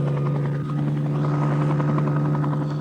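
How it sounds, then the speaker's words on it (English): Army helicopters sit close by during an Independence Day display in Mauritius, their rotors producing a loud, steady, continuous thudding drone that fills the scene with no talk. "the choppers have now come down, and they're going to start their little display"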